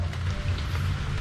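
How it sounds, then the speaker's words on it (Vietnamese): A steady wash of rain falls on surfaces outdoors in a garden, an even close hiss with no voices or other sounds on top. "Mưa rồi."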